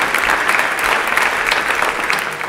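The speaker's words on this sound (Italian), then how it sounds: "Un applauso a lei che vale per tutta l'intera squadra." An audience at a rugby-themed event breaks into loud, dense applause for the staff coordinator and her team, a sustained close roar of clapping that stays strong and tapers slightly at the end.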